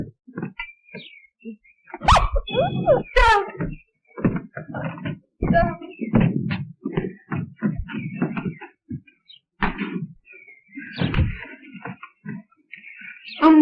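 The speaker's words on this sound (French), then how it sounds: "Oh, le chien, le chien!" A dog barks and whimpers in a few sharp, scattered outbursts mixed with excited talking and commotion in a quiet indoor scene, the yelps rising above the voices.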